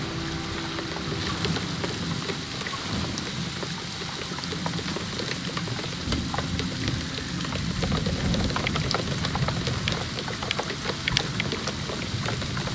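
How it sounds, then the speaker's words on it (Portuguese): Steady rain in the video game A Letter to the Future, a dense, constant hiss of drops pattering on surfaces, even and moderately loud throughout with no voices. "Tá ficando mais forte, parece essa chuva, hein?"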